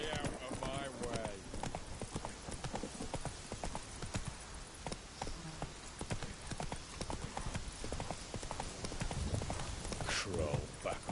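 Steady clip-clop of a horse's hooves from The Witcher 3: Wild Hunt, a close rhythmic trot with occasional whinny-like sounds, while a voice speaks briefly over it.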